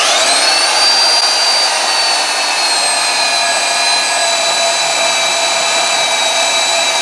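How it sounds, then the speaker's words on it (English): A bandsaw blade grinds through a solid steel bar track pin from a Case 1150 dozer, a loud, continuous high whine with steady ringing tones that hold evenly from start to finish, no voices. "You want to try the bandsaw? Yeah. It's solid bar,"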